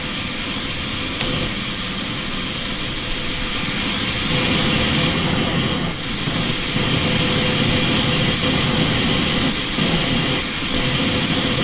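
Steady, loud airplane engine drone in Microsoft Flight Simulator 2020, a continuous broadband roar holding level throughout with no voices.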